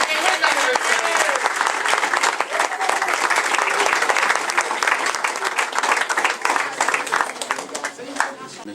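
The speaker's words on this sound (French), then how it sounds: "je pense qu'on doit tous s'applaudir" A crowd at a community coalition anniversary gathering applauds loudly and continuously, with dense clapping throughout and some voices mixed in.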